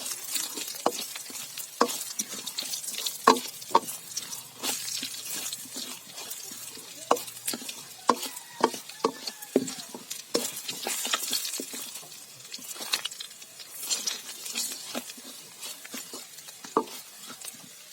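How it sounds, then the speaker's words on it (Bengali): Spices tempering in a pan for Bengali mango dal are stirred steadily, with a soft scraping rhythm of spoon against the pan over a continuous frying sizzle, close and moderately loud with no talking. "ফোড়ন দিয়ে ভালো মতো নেড়ে নেব"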